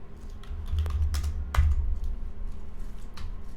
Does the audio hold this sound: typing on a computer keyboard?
yes